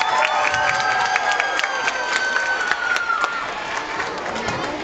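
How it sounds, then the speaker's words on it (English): A crowd at an elementary school talent show applauds and cheers loudly, with children's shouts and whoops over steady clapping that fills the whole stretch without a break. "Give a huge round of applause for Mrs. Math."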